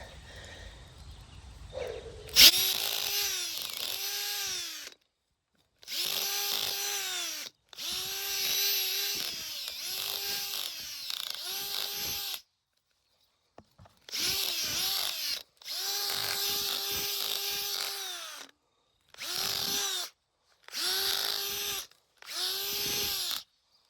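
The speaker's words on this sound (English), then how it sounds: "Would a bigger auger be easier?" A power auger bores planting holes in garden soil along a shaded native plant bed, its motor whining loud and close in repeated bursts of several seconds, each separated by short pauses.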